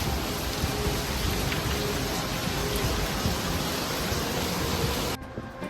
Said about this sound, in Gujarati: ભારે વરસાદ હતી ભારે વરસાદ